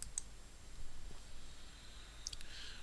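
A computer mouse clicking at a desk, a few faint sharp clicks, one near the start and a close pair near the end, over quiet room noise.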